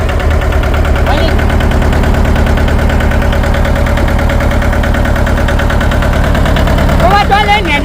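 A tractor engine idles with a steady low chugging rumble throughout, loud and close, while people talk over it in Gujarati.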